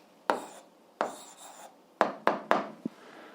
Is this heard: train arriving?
no